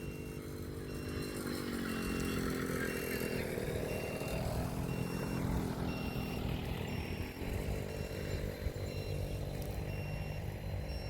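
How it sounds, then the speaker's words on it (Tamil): An air compressor runs steadily and loudly throughout a groundwater survey using 3D scanning at a rural site, a constant engine drone with no pauses and no talk. "கம்ப்ரஸர் ஓடும்"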